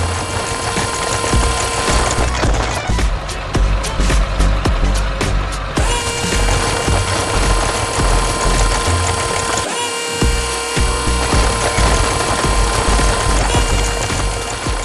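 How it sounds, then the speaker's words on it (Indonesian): A loud excavator engine drones without pause in a mountain tunnel as its bucket hits rock, with rattling, clanking impacts over the dense, echoing machine roar. "Suara mesinnya begitu kuat saat menghantam batu."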